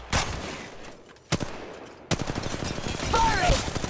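Gunfire in Apex Legends Mobile: a couple of isolated shots, then a dense, rapid automatic burst that carries on loud and close to the end.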